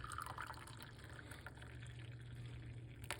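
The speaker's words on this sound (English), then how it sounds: "And then we're going to pour some hot water." Hot water is poured into a cup for a morning lemon and apple cider vinegar drink, giving a steady, soft, close trickle throughout.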